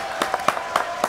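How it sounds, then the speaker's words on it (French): A few people in a television studio clap for a guest, a short, thin patter of about five or six separate claps, close and fairly dry. "applaudissements pour Tanguy"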